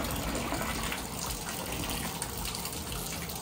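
Hot water runs steadily from a tap into a bathtub, a continuous close gushing splash with no talk.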